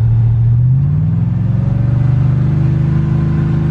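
Engine of a bagged truck revving close by, its pitch rising and holding as a loud, steady drone with no talk over it.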